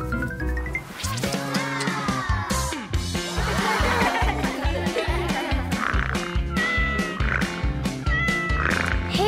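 Cat meowing amid a busy, layered backdrop of croaking and tonal calls, with repeated rising cries standing out loudly throughout.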